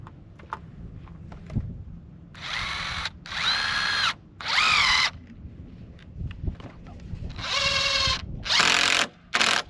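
Cordless power drill driving screws into scrap wood while building a goat shelter: several loud whirring bursts of a few seconds each, spinning up and stopping, with soft talk and knocks in the pauses.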